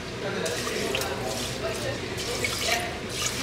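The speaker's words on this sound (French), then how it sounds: "je vais rajouter 3 verres d'eau" Water poured from a glass into a rice cooker pot holding rice, a steady close splashing trickle that runs continuously for the few seconds without a break.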